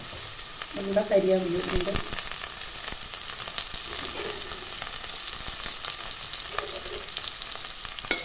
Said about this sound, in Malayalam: അപ്പോൾ നമുക്ക് ഉള്ളി എണ്ണ ചൂടാക്കി ഉള്ളി ഇടാം